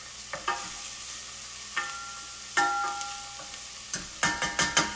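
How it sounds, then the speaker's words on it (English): Onion, celery and carrot sizzle in a soup pot for homemade broccoli soup while a spoon stirs them, with scattered scraping knocks over a low, steady fry, close and clear, and no talking. "So there you go, you've got your onion, you've got your celery, and you've got your carrot. Now give it a nice little mix."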